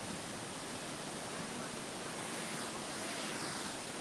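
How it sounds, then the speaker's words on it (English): A waterfall at Disney California Adventure, built where a parking lot once stood, roars as a dense, constant rush of falling water, close and steady with no break and no voices over it. "now we have this amazing waterfall."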